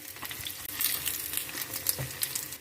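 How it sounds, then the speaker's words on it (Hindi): A potato and pea paratha frying in ghee on a hot pan gives a continuous soft sizzle with faint crackles and a few light scrapes, close and steady without talk. "दोनों साइड से घी लगा के अच्छी तरह से हम दोनों साइड से पराठे को पका लेते हैं।"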